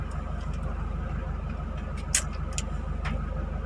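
A commuter van engine idles steadily with a low, even rumble and fine rhythmic ticking, joined by a few brief higher clicks near the end.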